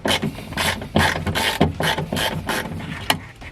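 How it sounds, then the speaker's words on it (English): Close ratcheting clicks come in repeated short bursts as small screws are backed out of a little metal bracket, with a sharper metallic tick near the end. "I'm gonna take this little metal bracket off as well."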